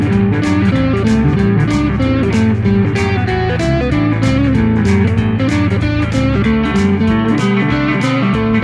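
Distorted electric guitar playing psychobilly rock 'n' roll with a twangy tone, fast pull-offs ringing against an open string in a steady, driving rhythm, loud and up close with no talking.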